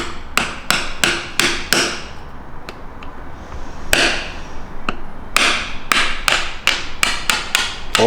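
Sharp metallic hammer blows ring out in quick runs of several strikes with brief pauses between them, hitting a part on an R32 Skyline during an RB20DET engine refit, loud and close.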